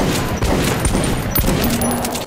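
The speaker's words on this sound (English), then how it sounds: "This guy's shotgun is nuts as well" Shotgun blasts in Metro 2033 Redux, heard in close succession within a loud, dense stretch of combat noise full of thumps and clatter.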